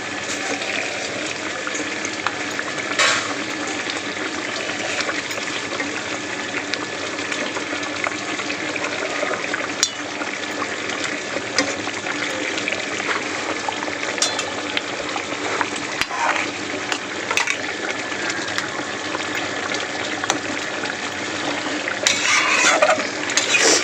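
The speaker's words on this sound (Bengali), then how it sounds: "চলো মাছগুলো দিয়েছি একটু ফুটে যাক" Fried fish pieces simmering in a boiling, spicy Bengali fish curry, a steady bubbling and sizzling wash that runs continuously with scattered clinks and stirring, loud and close throughout.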